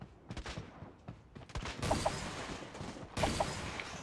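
Gunfire rings out in the Creative Destruction shooter game: scattered sharp shots, then two louder bursts of rapid cracking fire with ringing tails, fairly close and without speech.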